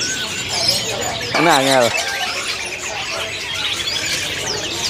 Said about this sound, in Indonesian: Ini yang lagi bunyi ada burung black tooth